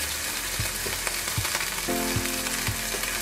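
Food fries in a pan, browning to a golden crust, with a steady loud sizzle and a few soft clinks and bumps from turning the pieces.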